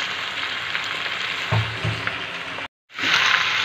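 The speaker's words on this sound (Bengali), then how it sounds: "ভালো করে লঙ্কা দিয়ে মাংসটা কষিয়ে নেবো" Mutton sizzling with dry chili paste in a pan, a steady close frying hiss with a couple of stirring thumps and a brief cut near the end.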